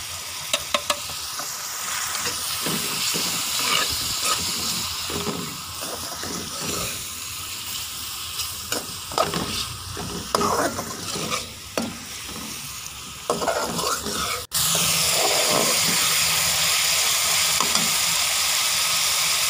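Chicken, vegetables and spices for spicy chicken spaghetti fry in a pan under a constant loud sizzle, broken by repeated scraping stir strokes and clinks, with the hiss lasting to the end and no talking.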